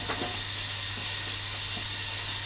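Smoked bacon lardons hiss and sizzle steadily in a pan on a truck cab cooker, a constant broadband fizz with a few soft clicks, close and alone.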